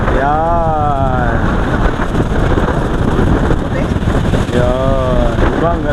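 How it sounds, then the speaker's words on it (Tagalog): Strong seaside wind roars loudly and continuously across the microphone near the coast at Monte Maria, with a voice talking over it at the start and again near the end. "Ang lakas ng hangin mga kalamat."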